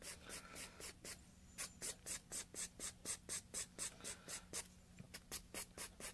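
Nail file rasping along the free edge of a fingernail in quick, regular back-and-forth strokes, close and soft, about three strokes per second throughout.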